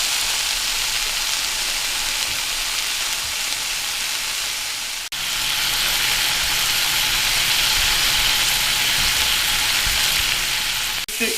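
Thick-cut homemade smoked bacon cooks in a steady, loud, continuous sizzle and crackle of frying fat, with nothing else heard over it.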